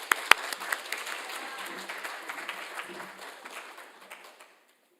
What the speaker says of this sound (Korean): 우리 나오실 때 크게 박수로 환영해 주시기 바랍니다.